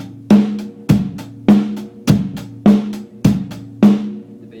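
A drum kit plays a steady rock beat, bass drum on one and three, snare on two and four, with even hi-hat eighths over them, loud and close with no voices.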